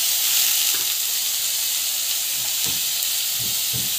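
Tomatoes and turmeric sautéing in a pan, a steady close sizzle and hiss with occasional soft stirring knocks, no talk.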